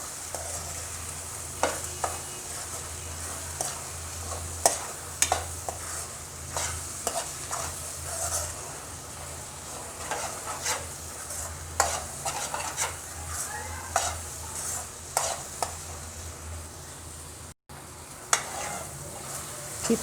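Egg and green vegetables with chili powder fry in a pan, a constant sizzle broken by frequent sharp scrapes and taps of a spatula stirring the scramble, close and continuous for the whole stretch.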